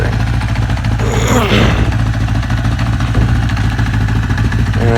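A 1983 Honda CB1000 motorcycle engine runs roughly with one cylinder misfiring, a steady loud close idle with uneven clattering pulses and a brief rise partway through.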